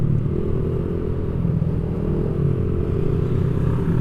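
A motorcycle passes on the road during a ride, its steady engine drone and clattering rumble loud and close throughout, no talk.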